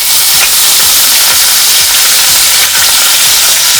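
Curry leaves crackling and sizzling in hot oil with spluttering mustard and cumin seeds, a loud steady hiss with scattered pops throughout.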